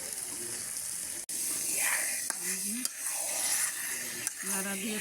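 Garlic stirred in a hot oiled pan sizzles steadily at close range, with scraping stirs and brief clatters, while a few voiced, talk-like tones sit underneath.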